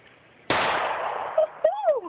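Single sharp gunshot as someone fires a first weapon outdoors, a sudden loud crack that decays into a noisy tail, followed by brief voices.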